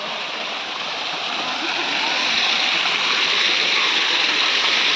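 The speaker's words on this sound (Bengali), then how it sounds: "এই যে উপর থেকে ঝর্ণা পড়ছে।" Artificial waterfall at Chikli Water Park in Rangpur, water pouring from above and splashing in a continuous loud rushing hiss that swells slightly louder toward the end.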